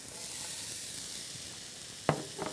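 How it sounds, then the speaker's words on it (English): Garlic and rinsed canned cannellini beans sizzle in a pan, a steady soft frying hiss running throughout, with a sharp utensil clack near the end and a couple of faint knocks after it. "I'm also going to add some garlic and some cannellini beans."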